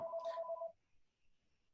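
A single short telephone ring tone, bright and steady, sounds for under a second, then fades into quiet room noise.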